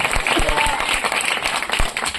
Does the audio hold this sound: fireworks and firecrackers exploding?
no